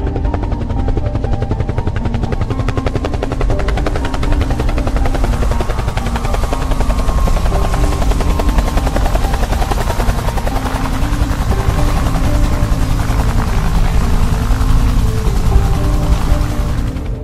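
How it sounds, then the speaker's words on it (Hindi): A helicopter engine spins up into a steady, loud rotor drone with rapid chopping pulses that holds throughout. "पायलट हेलीकॉप्टर को स्टार्ट कर देता है"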